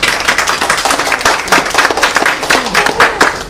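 Applause from an audience at a study-abroad seminar for a Singapore school, close and dense clapping that holds steady through a short burst.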